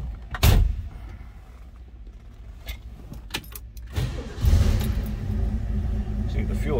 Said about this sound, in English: we're going to go ahead and start this up. Let you hear it run.